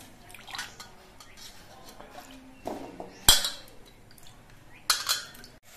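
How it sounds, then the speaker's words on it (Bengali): Pumpkin pieces drop into a wok on a gas stove. The clip is mostly quiet, with a few soft clatters and two sharp, close knocks of pieces hitting the metal pan. "कड़ाइर मध्य मिष्टि कूमड़ो गुलो दिए दिच्छे"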